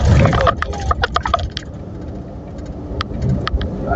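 An Iveco Hi Road 440 truck descends a long downhill mountain grade using its engine brake, a low rumbling drone under scattered clicks and cab rattles, loud and close from inside.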